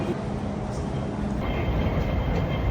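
A Hong Kong train rides out from Mongkok with a steady rumble of wheels and carriage noise inside the car for about three seconds. Faint background voices mix under the hum.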